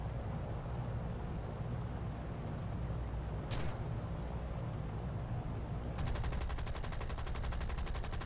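Machine gun fire during a naval convoy battle in a video game, a fast rattling stream of shots starting partway through over a constant low engine rumble, faint and distant, with one earlier sharp crack.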